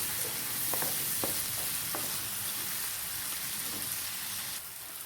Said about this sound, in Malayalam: ഇതിൻ്റെ കൂടെ 2 ചെറിയ ടൊമാറ്റോയും കൂടെ ചെറുതായിട്ട് അരിഞ്ഞത് ഇട്ട് നല്ലതുപോലെ ടൊമാറ്റോ വേകുന്നിടം വരെ വഴറ്റാം